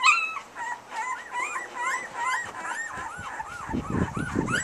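Puppies whimper and whine in a chorus of high, wavering cries, close and continuous, with some soft rustling underneath.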